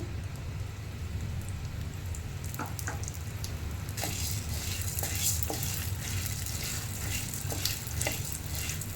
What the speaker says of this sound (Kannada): ಈಗ ಎಣ್ಣೆ ಕಾದಿದೆ ಸೊ ಬೇಳೆ ಹಾಕ್ಕೊಂಡು ಹುರ್ಕೊಳ್ತಾ ಇದ್ದೀನಿ